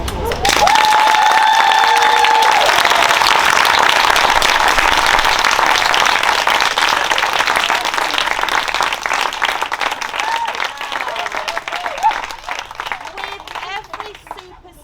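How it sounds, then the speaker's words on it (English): An audience claps loudly and steadily for nursery children after their assembly performance, with scattered cheers and voices mixed into the dense clapping, which slowly thins toward the end. "So can we give them a huge round of applause?"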